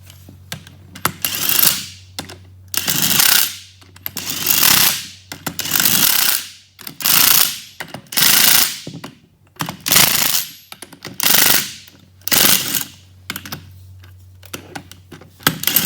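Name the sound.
pneumatic impact wrench tightening bolts on a car rear knuckle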